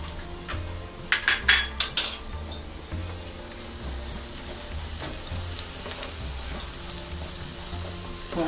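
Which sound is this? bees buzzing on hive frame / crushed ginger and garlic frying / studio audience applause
crushed ginger and garlic frying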